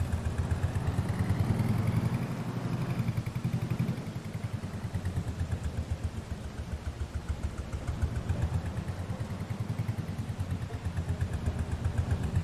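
A tractor engine in Farming Simulator 22 runs in a steady, close, throbbing drone with a fast rhythmic pulse that swells slightly now and then.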